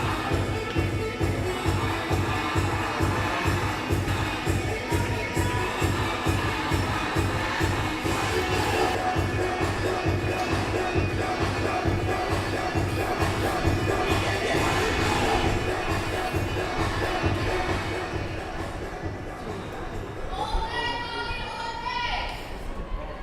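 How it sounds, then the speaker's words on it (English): A crowd at a women's Pro50 cricket match between the Dolphins and North West Dragons makes a continuous, fairly loud murmur and cheering, with a commentator talking over it. "As we hear the crowd again"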